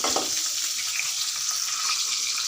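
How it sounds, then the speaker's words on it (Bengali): Eggs fry lightly in a pan with a pinch of turmeric, giving a close, steady sizzle and hiss that carries on without a break. "সামান্য হলুদ দিয়ে দিচ্ছি আমি হালকা ভেজে নেব"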